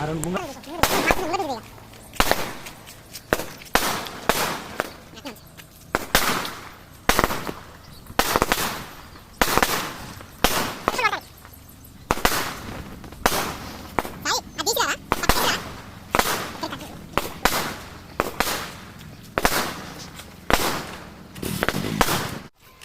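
A long string of loud firecracker blasts, sharp bangs going off one after another in an uneven rhythm, with voices talking in between.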